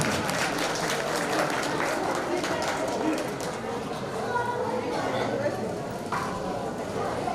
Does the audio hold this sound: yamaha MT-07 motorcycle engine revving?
no